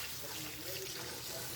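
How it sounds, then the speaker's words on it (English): Tap water runs steadily over raw meat in a home kitchen sink during dinner prep, a continuous close splashing hiss with no pauses. "Let me put water."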